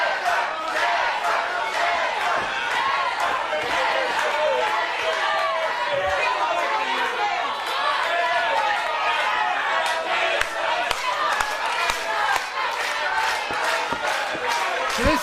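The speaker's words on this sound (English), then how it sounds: "Crowd absolutely deafening." Wrestling arena crowd roaring continuously, a loud, dense wash of shouting and cheering voices with sharp claps and bangs popping through, sustained for the whole stretch.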